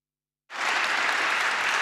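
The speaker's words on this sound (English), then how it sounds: "This applaud is for everyone, not only for Adam Michnik" An audience at the end of a panel discussion on Solidarity and peace bursts into applause after brief silence, a dense, sustained wash of clapping from a large crowd.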